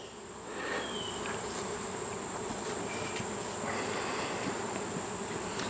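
Honeybees hum steadily around an opened hive during late-summer hive work, a dense continuous drone that stays close and even throughout, with no voices.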